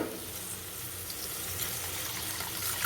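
Water poured into a pot of dalia (broken wheat) in a home kitchen makes a steady, soft rushing fill that holds at a constant low level throughout, with no speech.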